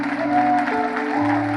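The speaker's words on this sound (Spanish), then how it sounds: "Denle un fuerte aplauso a cada uno de ellos." A church congregation claps after a Spanish-language service, steady applause over sustained organ or keyboard tones that continue throughout the short stretch.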